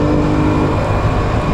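A 1993 Honda Astrea Grand motorcycle accelerating on a city street, its engine a loud, close, continuous droning roar throughout the short stretch.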